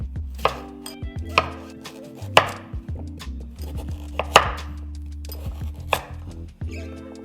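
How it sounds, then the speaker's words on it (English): A knife chops vegetables and potatoes into quarters on a board for Vietnamese pork macaroni soup, sharp close thunks landing at an irregular pace of roughly one per second over a low steady background hum. "After that, we're gonna cut everything into quarters."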